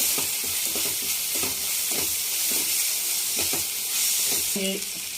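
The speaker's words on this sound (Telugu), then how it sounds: "అల్లం వెల్లుల్లి పేస్ట్ వేసుకుందాం. ఇది కూడా పచ్చివాసన పోయిన దాకా బాగా వేయించుకోవాలి." Ginger garlic paste frying in oil in a pan for a mushroom gravy curry: a steady close sizzle broken by rhythmic scraping strokes of a spoon stirring the paste.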